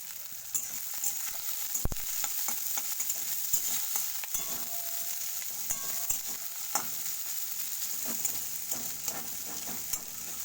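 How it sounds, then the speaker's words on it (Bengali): Onions fry in a pan until browned, giving a steady, fairly quiet sizzle with scattered crackles and occasional stirring scrapes, one sharp knock early on; no talking. "পেঁয়াজগুলো একটু ব্রাউনি করে ফ্রাই করে নিতে হবে।"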